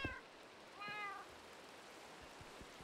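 A Minecraft cat gives a single clear meow near the start, alone over a faint steady hiss of rain or flowing water, with a few soft clicks.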